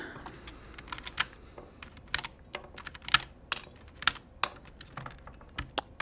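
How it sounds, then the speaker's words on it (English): Keycaps are pulled one after another off a KC84 mechanical keyboard, giving a series of sharp, close plastic clicks and snaps at an irregular pace, some in quick pairs, with no talking. "I know you're not supposed to pull your keycaps off like this"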